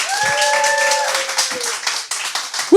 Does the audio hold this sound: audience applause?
yes